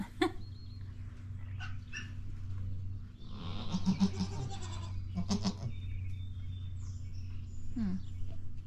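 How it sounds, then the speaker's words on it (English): Baby goats bleating on a farm during spring deworming, several short high bleats scattered over a steady low background hum, with some faint rustling and handling noise. "Show the baby goats."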